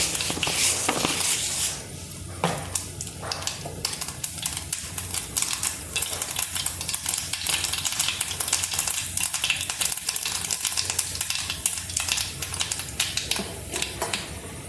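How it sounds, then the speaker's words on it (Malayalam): Mustard seeds splutter and pop in hot oil as tempering for a banana blossom stir-fry, giving a dense, continuous crackle of sharp little bursts close to the pan. "ഇതിലേക്ക് അല്പം കടുകിട്ട് പൊട്ടിക്കാം."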